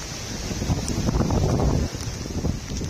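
Strong wind buffeting the microphone with a constant roaring rumble, loud and close, no voices, at Mount Davis, Hong Kong.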